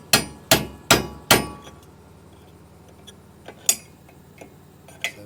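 Sharp hammer strikes chipping welding slag off a cheap batwing bush hog: four loud metallic blows in quick succession, then a few lighter, scattered taps and clinks.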